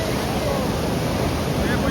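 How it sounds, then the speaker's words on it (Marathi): High-tide waves wash up the shore at Kunkeshwar on the Konkan coast, making a constant close roar of surf. Wind noise runs through it, and the sound swells slightly toward the end. "जबरदस्त भरती लागल्या बघू शकता पाणी बघा वरपर्यंत येतात"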